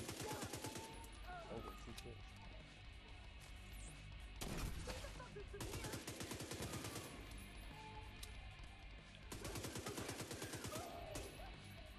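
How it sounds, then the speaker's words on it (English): Bursts of automatic gunfire from a shooter video game, The Division 2, crack out in repeated rapid volleys with short pauses between, loud and dense, while a player's voice speaks over parts of the firefight. "Where am I getting shot from?"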